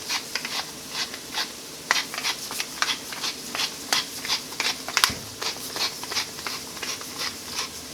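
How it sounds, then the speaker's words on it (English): Fresh pepper cracked from a grinder over onions: a run of quick, dry rasping grinds in a steady rhythm of short bursts, close and fairly quiet, with no talking. "some fresh cracked pepper"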